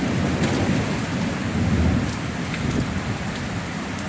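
Heavy summer rain pours steadily in a Central Florida storm, a dense continuous hiss with a low thunder rumble rolling underneath, close and loud throughout, no voices.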